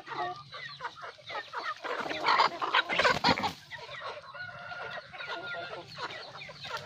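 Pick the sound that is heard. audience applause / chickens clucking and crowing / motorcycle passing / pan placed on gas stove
chickens clucking and crowing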